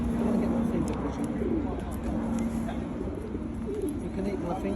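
A pigeon coos softly and continuously at close range while perched near a person, with a low, steady murmur of talk running underneath.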